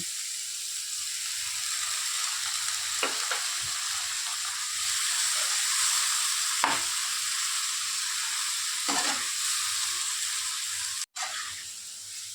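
Boiled jackfruit curry with onion paste sizzles steadily in a pan, a close, even frying hiss with a few scraping stirs of the spatula and one sharp knock near the end, with no voices.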